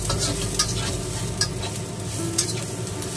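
Garlic and ginger sauté in a hot pan, giving a steady close sizzle broken by a few sharp scraping stirs of the utensil against the pan, loud and with no talking.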